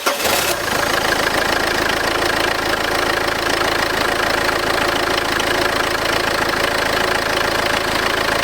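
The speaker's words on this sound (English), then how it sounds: "I'm going to fire that up now." A 2000 Peugeot 406 HDi diesel engine cranks and catches, then settles into a steady clattering idle, loud and close, with no talk.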